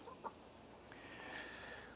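Soft clucks from a chicken or two, quiet and close, with a short cluck early on and faint outdoor background.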